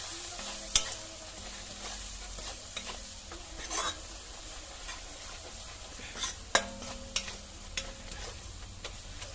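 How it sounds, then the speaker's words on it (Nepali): Besan (gram flour) fries in oil in a pan, a gentle sizzle running beneath scraping stirs and occasional clinks of the utensil against the pan. "अहिले मैले तेलमा अलिअलि भुट्यो भने भरे गनाउँदैन।"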